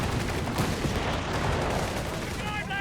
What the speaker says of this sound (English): Entry's being met out in the open with MD-34 fire.